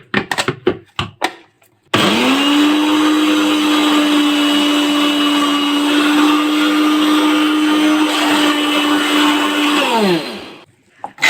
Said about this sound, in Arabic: انا كده طحنت السمسم اللي حطيته هون